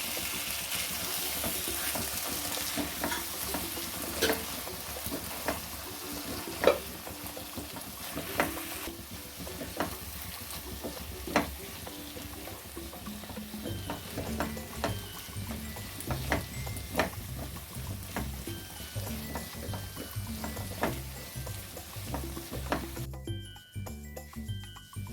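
A spoon scrapes and stirs boiled field beans through masala upma frying in a pan, a steady close sizzle with intermittent clinks and scrapes, no talking.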